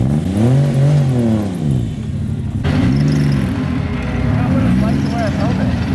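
A Volvo 240 engine being push-started revs in repeated rising and falling surges, loud and close, with a brief dip mid-way before it picks up again; voices are heard over it.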